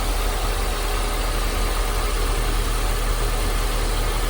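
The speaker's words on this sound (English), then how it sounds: "as you guys can hear, the engine running, it's up and running" A 2016 Nissan Versa Note engine idles steadily at close range, a constant low hum with faint mechanical knock running unbroken throughout.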